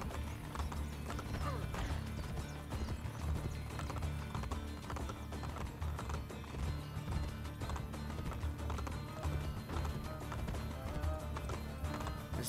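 Horses galloping and neighing in the video game Assassin's Creed: Brotherhood, with loud, fast clip-clop hoofbeats running throughout, occasional whinnies and some mechanical clatter layered in a busy, dense game soundscape.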